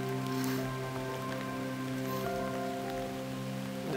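Rain falls steadily during a storm, a constant dense patter for the whole stretch, with a steady low hum running under it.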